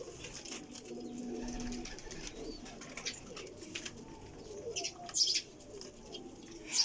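Pigeons of a purple-throated breed coo softly in a loft, low murmuring calls running under a faint, steady background, with a few brief sharper chirps or wing sounds near the end.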